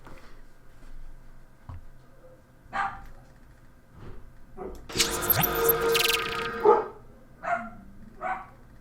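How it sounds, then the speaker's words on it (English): A dog indoors barks at the mail carrier in short, scattered bursts, with one louder, longer flurry in the middle, heard from a moderate distance in a quiet room. "I suspect the mailman's here, and Avery now is going bat dog crazy in this case."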